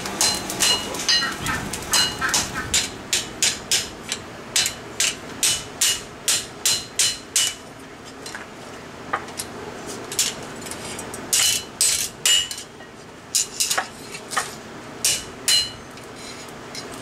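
A hammer strikes hot steel while a knife is forged and its tang cut, giving loud, sharp metallic blows in steady rhythmic bursts with brief pauses.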